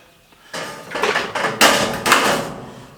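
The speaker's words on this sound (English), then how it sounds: "I'll just get a couple of little tech screws and screw this stud" A power driver sends tech screws into a stud, with several loud bursts of whirring and grinding close by in quick succession over about two seconds.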